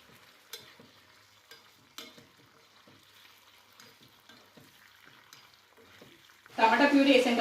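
Fried onions are stirred in a pan with quiet, intermittent scrapes and soft sizzle. Near the end, tomato puree hits the pan in a sudden loud, hissing burst of sizzling.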